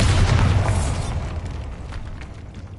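A Bombarda blasting spell goes off in Hogwarts Legacy with a single loud, deep explosive boom that rumbles heavily at first, then fades into a long, lingering roar with no voices.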